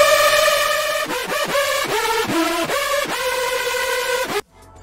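A bright, buzzy synth lead made thick by seven detuned unison voices and heavy modulation, played as a short melodic phrase of gliding notes before cutting off abruptly.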